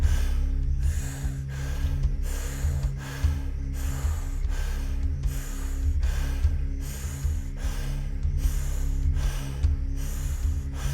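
Rhythmic, forceful breathing during a breathwork exercise, with about a dozen evenly spaced loud breaths close up over a low steady musical drone.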